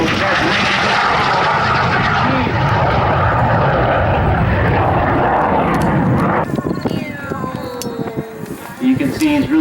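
Jet flown low and fast down the show line at a Waukegan, Illinois airshow, a loud broadband roar that holds steady then drops off as it passes, with a commentator talking over it.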